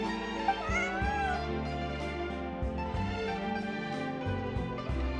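A cat in the Genshin Impact video game meows in a drawn-out, wavering way over soft, sustained background music, the calls clear and close across several seconds.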